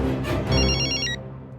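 A telephone rings with a short electronic trilling burst, close and clear, then stops.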